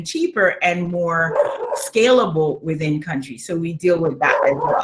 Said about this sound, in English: I apologize for my dog in the background.